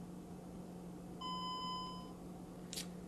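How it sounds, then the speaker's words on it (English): A single steady electronic beep rings out for about a second from a hardwired alarm system keypad, fairly faint over a quiet hum, followed by a short click. "Went ahead and beep to confirm,"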